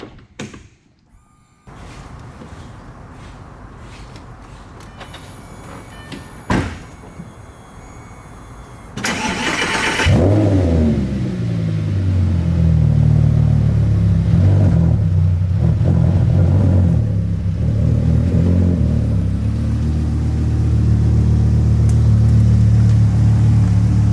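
A Lamborghini Gallardo Superleggera starts up close by after a few quiet seconds: a sharp bark as it fires, then a loud, steady, throaty rumble that holds at idle with slight swells.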